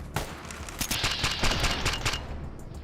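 Rapid bursts of gunfire from Fallout 3 / New Vegas, sharp close shots cracking in quick irregular clusters for nearly three seconds before trailing off.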